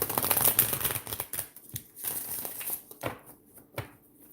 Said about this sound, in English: Let's get a good shuffle for the last card.